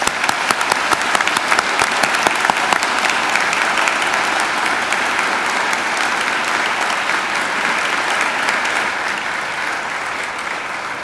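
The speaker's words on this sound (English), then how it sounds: "please join me in giving them a round of applause." Loud sustained applause from a large audience at a university graduation ceremony, steady clapping filling the hall and slowly easing off toward the end, no speech.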